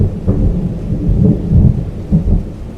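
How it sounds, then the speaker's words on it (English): Low rolling thunder rumbles through steady rain in an outdoor weather ambience, swelling in several heavy pulses over a constant wash of falling water, loud and close with no voices. "and thunder."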